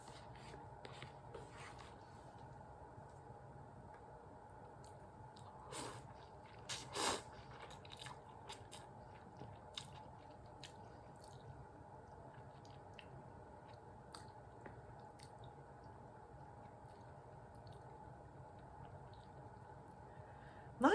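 Someone chews a bite of KD ramen and Lay's bacon grilled cheese, a quiet, close, wet munching broken by occasional faint crunchy clicks, with no talking.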